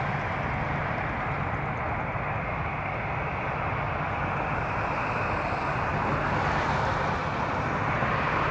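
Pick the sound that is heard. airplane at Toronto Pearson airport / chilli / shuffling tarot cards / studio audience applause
airplane at Toronto Pearson airport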